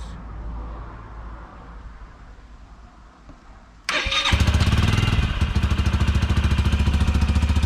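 An engine idles quietly, then an AJS motorcycle fires up and settles into a loud, steady, rapid putter close by.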